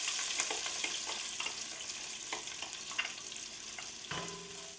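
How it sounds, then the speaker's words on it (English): Onions sauteing in hot oil for soup, a continuous close sizzle with scattered crackles and a few stirring scrapes, no voices. "Saute your onions until they are translucent"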